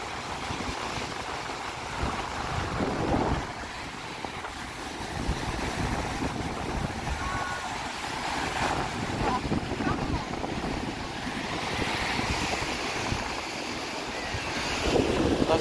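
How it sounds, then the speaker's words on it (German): Sea waves wash onto the beach at Cala Millor, Mallorca, as a steady broadband surf roar with wind noise, continuous and fairly close, with some faint voices at times. "Jetzt wieder ein paar mehr Wellen."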